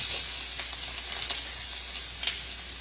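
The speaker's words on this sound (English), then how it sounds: "I'm going to be adding to this some garlic and onion. So I'm adding onions" Onions and garlic sizzle steadily in a hot pan, a continuous fine hiss with occasional brighter crackles, fairly close and heard alone without talk.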